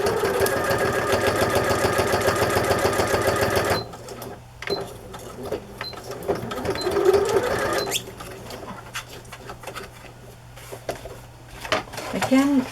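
A sewing machine stitches card journal pages in a steady, fast mechanical whir for about four seconds, then stops, leaving scattered handling clicks and a person speaking.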